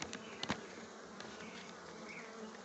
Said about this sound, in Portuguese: Que é uma abelha melipona, né, conhecida como abelha bugia, a abelha natural aqui do Vale do Itajaí